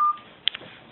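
A mobile phone gives a short electronic keypad beep: a steady tone at the start, then one bright chirp with a quick echo. It is brief and moderately loud in an otherwise quiet room.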